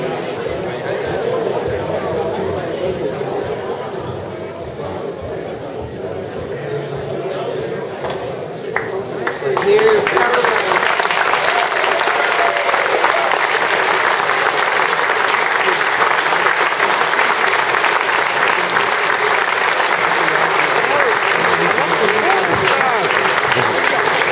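Concert crowd at a gig at The Sage Gateshead bursting into loud, steady applause that fills the hall, following quieter murmuring and room noise.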